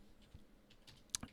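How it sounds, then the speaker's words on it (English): Brief run of keyboard typing, a few soft, faint clicks ending in two sharper keystrokes, alone in a quiet room. "I'm typing it in."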